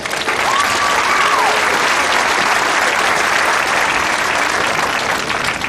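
A crowd at a high school graduation ceremony applauds the maintenance and custodial staff, loud and sustained throughout, with a brief whistle near the start.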